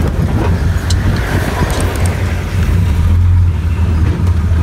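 A Willys 6x6 with a Flathead V8 engine drives in the rain, making a loud, steady low engine rumble mixed with broadband road and wet noise that holds constant throughout.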